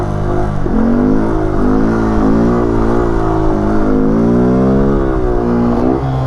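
A motorcycle engine held at a steady, loud drone with smooth throttle rises and falls during slow-speed foot brake practice on a stunt lot, close and continuous throughout.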